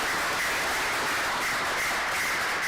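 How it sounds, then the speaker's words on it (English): Sustained audience applause fills a packed school-district auditorium crowd of students and families, a dense steady wash of many hands clapping throughout with no voices on top. "big round of applause for this"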